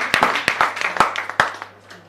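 A small scattering of hand claps, a handful of separate sharp claps at an uneven pace that thin out and fade toward the end.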